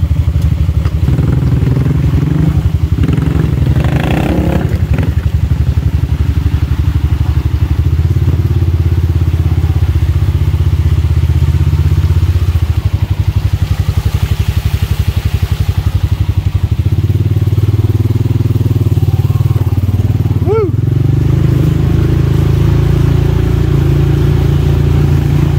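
A 2021 Honda Rancher ATV crawls over creek rocks, its engine droning steadily with low rumble throughout, punctuated by occasional clattering thumps as the tires climb over stones.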